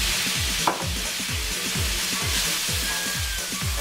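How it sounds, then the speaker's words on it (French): Bulgur risotto in a hot pan just deglazed with a glass of white wine, giving a steady close sizzle with repeated rhythmic stirring scrapes and no talking. "déglacer avec un verre de vin blanc."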